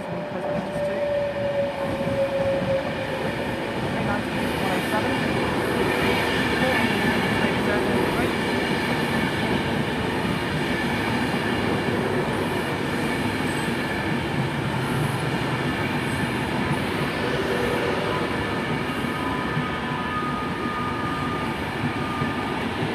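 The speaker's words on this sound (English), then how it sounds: "coming in now is a Pendolino, the 1152 Manchester Piccadilly to Milton Keynes Central" A Class 390 Pendolino electric train pulls into Coventry station with a steady low rumble and rolling wheel noise, plus faint squeals and clicks, growing close and sustained over the platform's ambient hum.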